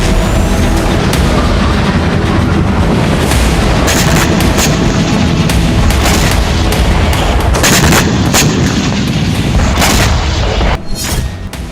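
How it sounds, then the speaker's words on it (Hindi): Heavy bombardment and gunfire strike a military post in the Russia–Ukraine war near Kharkiv. Loud booms and sharp shot bursts repeat irregularly over dense rumbling for most of the stretch, then ease off near the end. "खार्किव में ताबड़तोड़ बमबारी।"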